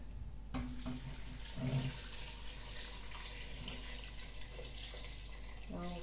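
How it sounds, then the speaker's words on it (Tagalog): Water pours from a tap into a pot of Filipino chicken ginger soup, a steady faint splashing stream with a few soft knocks and clinks, with no talking over it. "Lagyan natin ng water."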